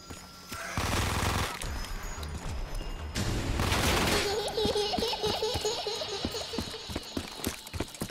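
Machine gun fire in Black Ops 3 custom Zombies on the Scrapyard map, loud bursts of automatic shots mixed with game effects and a chiming pickup tone, then a run of sharp individual reports.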